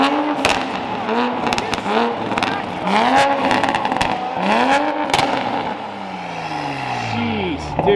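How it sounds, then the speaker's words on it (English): A Toyota Supra with a modified, very loud exhaust revs hard several times, each rev rising and falling sharply with crackles between, while people talk excitedly over it. "We're gonna get a couple more revs though."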